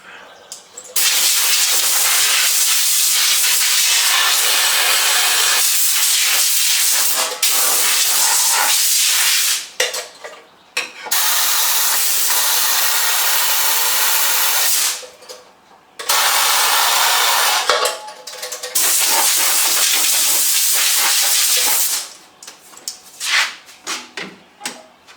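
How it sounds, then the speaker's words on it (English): Harsh, loud hissing blasts of a sandblaster clearing loose sand out of a Dietz Monarch lantern, running in long sustained bursts with brief pauses between them. "I'm blasting out all loose sand, and everything has to come out."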